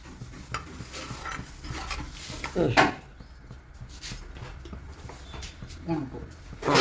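A spoon scrapes and clatters as chicken masala curry is stirred in a pot, with metallic knocks and a louder clank near the lid being set on, under faint background voices.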